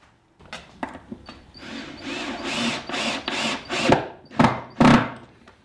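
A wooden screw pilot holder bracket is fastened into a cabinet, giving a run of rasping, grinding bursts of wood-on-wood work that swell and stop several times, with the last two strokes loudest and nearby.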